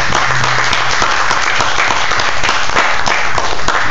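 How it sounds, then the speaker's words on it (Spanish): Church congregation gives a steady, loud burst of applause during an evening Bible study, dense overlapping claps sustained evenly across the whole stretch. "Den un aplauso a nuestro Señor Jesucristo en esta noche."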